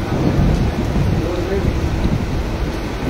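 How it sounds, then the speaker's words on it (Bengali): Heavy midday rain pouring steadily in a district during a thunderstorm, a dense, constant roar close to the microphone with low rumbling mixed in, and no voices over it. "ঝমঝমে বৃষ্টি শুরু হয়েছে"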